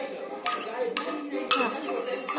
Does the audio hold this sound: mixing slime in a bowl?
yes